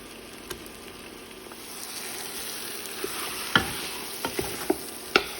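Meat being sautéed with onion, tomato and spices for Saudi kabsa: a low steady sizzle under a handful of sharp scrapes and clacks from the spoon, with stirring strokes clustered near the end.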